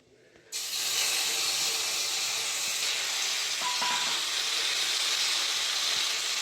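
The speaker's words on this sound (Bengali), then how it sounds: "গোটা জিরে দিয়ে দেবো তেলের মধ্যে" Whole cumin seeds sizzle in hot oil with a sudden, steady hiss that starts sharply and holds loud and continuous, with faint crackles scattered through it.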